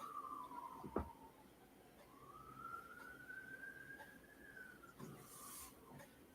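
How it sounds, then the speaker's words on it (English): Faint emergency sirens wail in the distance, a rising and falling tone sweeping slowly up and down behind a quiet room with a brief thump early on. "You can hear sirens in the background."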